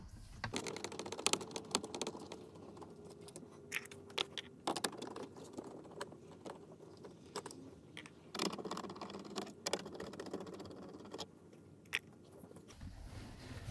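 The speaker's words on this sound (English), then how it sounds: "That reveals 2 7-millimeter screws at the bottom here underneath the lip that we will remove" Small 7 mm screws being worked out of the dash bezel of a 2019+ Ford Mustang, heard as close, irregular clicks and light plastic-and-metal taps and rattles, fairly quiet, with no talking.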